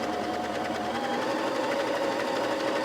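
A Husqvarna Viking Emerald 118 sewing machine stitching, a steady close whirring hum with a fast rhythmic needle chatter running without pause, no talking.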